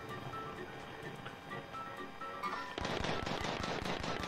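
Gunfire in the video game Warzone: dense, continuous rapid shots crackle throughout and grow louder and sharper partway through, like sustained automatic fire.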